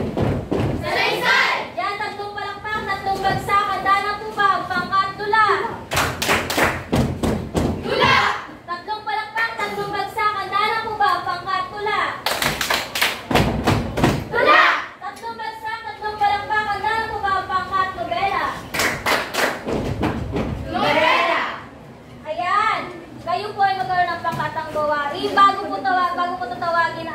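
A group in a classroom breaks into bursts of rhythmic clapping and stomping, loud and close, repeated several times between stretches of energetic chanting voices.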